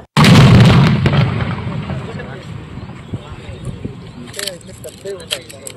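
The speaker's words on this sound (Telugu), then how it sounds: "తీవ్రవాదుల నుంచి స్వాధీనం చేసుకున్న బాంబులను నిర్మానుష్య ప్రదేశంలో నిర్వీర్యం చేశారు పోలీసులు." Police blow up seized bombs, including suitcase, bag and bucket bombs taken from militants in Rayachoti, at a deserted site: one loud, close boom erupts and then rolls off into a long rumbling decay, with faint voices heard afterward.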